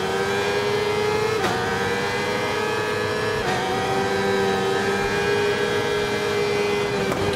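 A Stock 600 class motorcycle engine in the racing game RIDE 4 on PS5 whines loudly and steadily as it accelerates, its pitch climbing and dropping back at a few gear shifts, with no talk.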